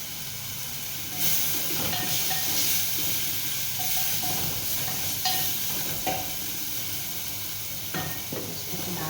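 Tomatoes added to a hot pan of frying paste for Indian daal, giving a loud, steady hiss of sizzling with a few stirring scrapes and light clinks, close and continuous with no talking.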